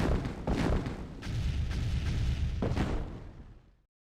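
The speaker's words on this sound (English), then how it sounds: "It was just a massive load of explosions." Explosions in a Tiberium strategy video game, loud rumbling blasts layered over one another in a continuous roar with a few sharper bursts, fading out abruptly at the end.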